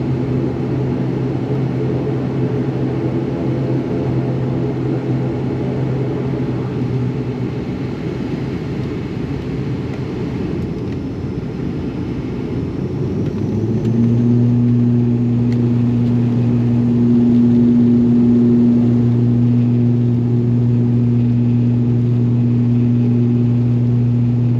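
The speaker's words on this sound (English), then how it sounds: "There we go, the engines are up and running." ATR 72-600 turboprop engines run steadily while the aircraft taxis to the runway, a loud continuous droning hum that rises in pitch and intensity partway through as power increases, heard from inside the cabin.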